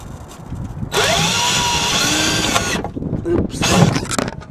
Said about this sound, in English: and just drill a hole.